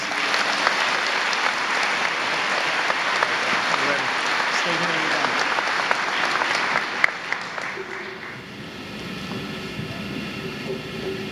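A large graduation audience at St. Peter's Prep claps steadily to welcome the class of 2018 speaker, dense and loud for several seconds before thinning and fading into hall murmur.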